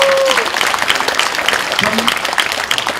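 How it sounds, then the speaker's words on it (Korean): Applause from the audience at a hometown book concert in Korea rises right as a speaker's voice trails off, a dense patter of many hands that stays fairly loud and even. "여러분 우리 김학민에게 다시 한번 위로의 박수를 한번 보내주십시오."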